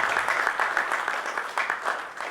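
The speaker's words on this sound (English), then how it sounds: "let's give him a huge round of applause" Audience at a procurement summit applauding a panelist, dense steady clapping from many hands filling the room, fairly loud and continuous throughout.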